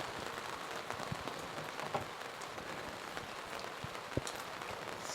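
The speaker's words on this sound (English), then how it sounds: "Oh, it's raining." Rain falls in a virtual reality artwork scene, a steady patter of drops on a surface with a few sharper individual drips, even and continuous with no voices.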